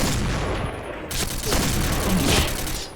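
Dense gunfire from the Point Blank shooter game crackles nearly nonstop for several seconds, a loud, layered fusillade of rapid shots with little pause between them.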